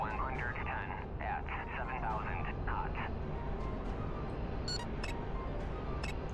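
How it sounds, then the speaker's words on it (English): A Harrier jet in a combat flight video game gives off a steady, dense roar that runs unbroken from start to finish, with a voice briefly talking over it early on. "this is a freaking Harrier"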